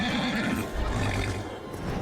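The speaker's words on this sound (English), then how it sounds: "We're gonna tame this horse." A horse in the video game Darksiders lets out a clear, shrill whinny that drops into a snorting tail, close and alone in a short burst against faint game ambience.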